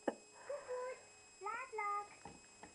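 A cat gives a few short meows close by, separate cries spaced across a couple of seconds in a quiet indoor room.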